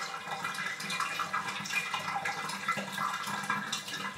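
Water drains out of a snake's tub, a steady rushing and gurgling flow with small splashes, close and continuous with no talking.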